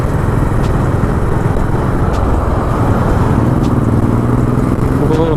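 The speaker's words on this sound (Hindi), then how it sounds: "It's a Harley Davidson." A Harley-Davidson motorcycle rides past on a weekend road, a steady loud engine rumble holding throughout with no pause.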